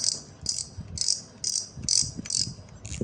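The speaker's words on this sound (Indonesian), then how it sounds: "ini dia untuk suara clicker. Lumayan nyaring teman-teman untuk suara clickernya ya" Clicker on a Haut Ton Cooper Dragon metal twin-handle fishing reel: about seven bright, rattling bursts of clicks in a steady rhythm, close and fairly loud, with no other sound.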